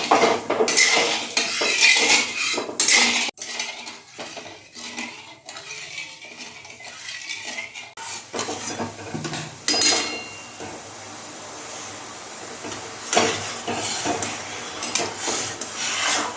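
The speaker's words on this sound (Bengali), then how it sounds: "এই জলটা দিয়ে নাড়াচাড়া করতে হবে একটু।" A spoon stirs sugar and water in a metal pot for syrup, with loud close scraping and clanking against the pot, brief pauses, then more stirring and rattling.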